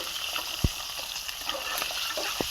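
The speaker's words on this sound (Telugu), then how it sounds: "గుడ్డు బాగా ఫ్రై అవ్వాలండి. దగ్గర నేను ఒక 5 నిమిషాల పాటు ఫ్రై చేస్తాను." Boiled eggs frying in a pan over a low flame, with a steady sizzle and crackle throughout and a couple of sharp knocks from stirring.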